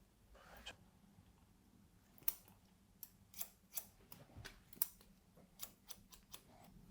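Scissors snipping through hair during a men's haircut that takes a long mullet down to a short modern cut, a run of quiet, crisp close-range snips at an irregular pace over a low room hush.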